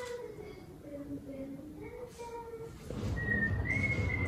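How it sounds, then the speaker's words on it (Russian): A young girl whistling a wandering tune outside a window in Tbilisi, Georgia, faint and distant over street ambience that swells louder toward the end, with no talk. "За окном миролюбиво играла девочка, что-то себе насвистывала"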